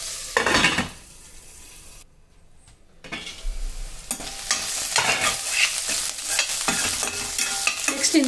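Spiced dry peas with chopped green chillies are stirred in a hot pan, a spoon scraping and clinking over a steady close sizzle.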